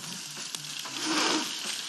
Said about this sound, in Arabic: هننزل بالجمبري مع التوم، التوم عشان ما يتحرقش مننا، هننزل بالجمبري